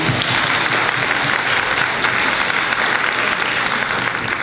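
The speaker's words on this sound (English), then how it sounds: "Can we have one more round of applause for them, please?" Loud, sustained applause from a school audience after a dance performance, a thick wash of clapping that holds steady throughout with no talk over it.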